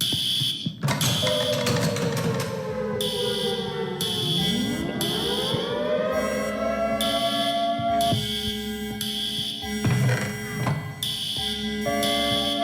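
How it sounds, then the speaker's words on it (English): A loud electronic alarm blares steadily, pulsing on and off in repeated bursts, with sweeping synthetic tones rising and falling beneath it, in a Minecraft Create mod world. "the alarm is starting to get pretty annoying"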